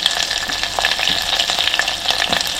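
Mustard seeds, cumin and chillies sizzle and crackle in hot oil for tempering, a dense continuous frying hiss dotted with sharp little pops, close and fairly loud with no talk.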